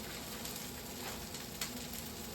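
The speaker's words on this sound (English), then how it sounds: "You can hear that sizzling right away" Egg roll filling of about a cup, just dropped into hot oil in a wok, giving a steady, close, loud hiss of sizzling and crackling with no talk.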